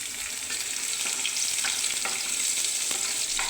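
Four green chilies frying in hot oil in a wok, already seasoned with black cumin seeds and crushed garlic, give a steady, close hiss and crackle of sizzling throughout, with faint stirring clicks now and then.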